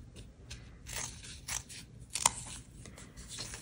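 Scissors snip paper for a handmade greeting card, several quiet crisp cuts close by, in an otherwise quiet room.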